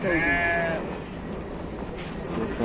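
A sheep bleats loudly at the start at an Istanbul sacrificial livestock market, followed by a lingering murmur of background noise.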